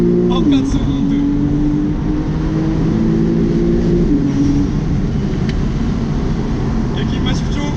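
A Porsche 911 991 Carrera S with its naturally aspirated, rear-drive flat-six accelerates from inside the cabin, the engine tone climbing through revs then settling into a steady drone, loud and close, with someone talking over it.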